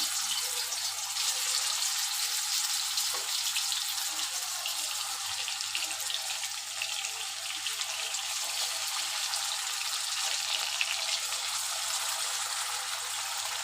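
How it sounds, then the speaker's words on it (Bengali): Pangas fish sizzles in hot oil in a kadai, a dense, even crackling hiss that carries on without pause at moderate volume. "এখন মাছগুলো দিয়ে দিব।"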